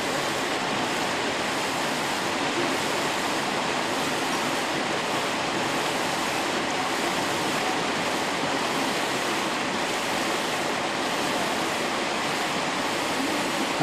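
Rushing floodwater during the 1997 flood, a steady, dense roar of churning water with no pauses, loud and constant throughout with no voices.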